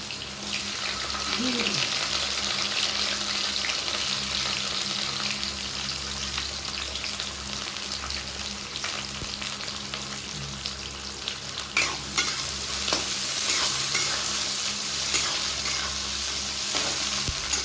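Carrots and beans fry with cinnamon, cardamom and cloves for fried rice, a loud, steady sizzle with stirring and scraping clatter and a few sharper clinks throughout.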